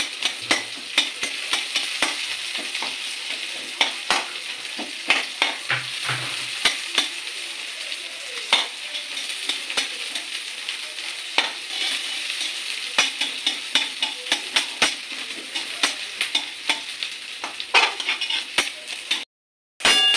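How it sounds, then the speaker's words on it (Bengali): Onions sizzling in a pan for chilli baby corn while a spatula stirs and scrapes, steady frying hiss punctuated by frequent sharp clicks of utensil on metal, close and continuous, briefly cutting out near the end; no talk. "পেঁয়াজগুলো ভাজতে ভাজতে আমি একটু খুঁটির সাহায্যে পেঁয়াজের খোসাগুলো খুলে দেবো"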